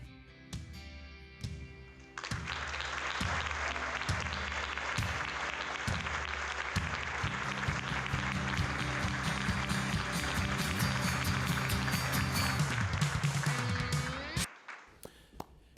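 Audience applause for volunteers at a human services celebration, a loud sustained ovation of many hands that swells at about two seconds, holds steady for roughly twelve seconds and then cuts off abruptly.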